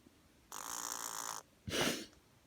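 A pet parrot imitates a fart, giving two raspy, buzzy blasts, the first longer and steady, the second shorter and rougher, close to the microphone.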